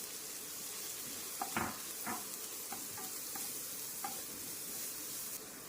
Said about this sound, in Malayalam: നമുക്കിതിലേക്ക് ചോപ്പ് ചെയ്ത് വെച്ചിരിക്കുന്ന ഒരു സവാളയും കൂടെ ചേർത്ത് കൊടുക്കാം. ഇത് നന്നായിട്ടൊന്ന് വഴറ്റിയെടുക്കണം.